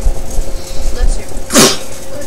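A single sharp human sneeze bursts out mid-clip over steady background chatter and room noise.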